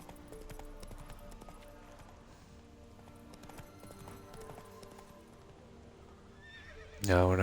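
A horse in The Witcher 3 video game gallops with steady hoofbeats under game music, then gives a loud, close whinny right at the end.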